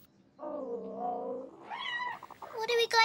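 A small kitten meows several times in quick succession, rising in pitch and growing louder toward the end, close and clear in a cartoon setting.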